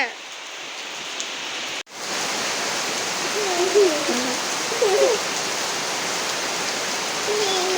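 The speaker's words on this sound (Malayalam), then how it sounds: "ഇതാ കണ്ടില്ലേ നല്ല മഴ" Steady, dense hiss of heavy rain falling close by, with a brief gap near the start and faint whistly calls over the downpour.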